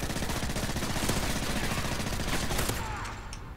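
Rapid sustained gunfire sprayed in a video game 1v1 match, dense continuous bursts close and loud throughout, tapering slightly at the end with no talk.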